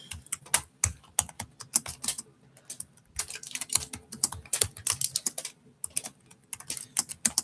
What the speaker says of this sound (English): All right, I'm typing it in.